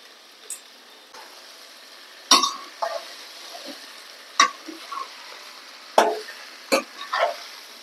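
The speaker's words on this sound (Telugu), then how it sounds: "ఇప్పుడు మనం ముందుగా ఉడకబెట్టుకున్న పాస్తా వేసి కలుపుకోవాలి" Boiled pasta being stirred into spiced vegetables in a pan for a spicy veg pasta made without sauces, heard as a few sharp scrapes and clinks of a spoon over a soft, steady sizzle, close by with no talking.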